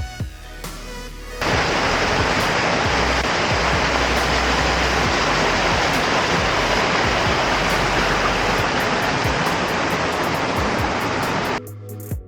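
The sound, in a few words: waterfall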